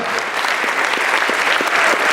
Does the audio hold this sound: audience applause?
yes